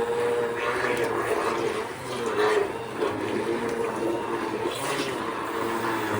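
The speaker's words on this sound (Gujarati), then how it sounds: "હવે આમાં ફેરવશે બ્લેન્ડર" A blender whirs steadily while mixing mango water for pani puri, with a brief dip in its drone partway through and people talking over it.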